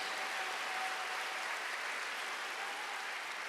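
Church congregation during a Sunday worship service gives continuous, even applause at moderate volume, blended into a steady wash with a faint tone running underneath.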